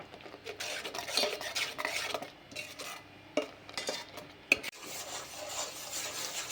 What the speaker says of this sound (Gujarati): આ રીતે ગોળ મિક્સ કરીને હલાવતા જઈશું.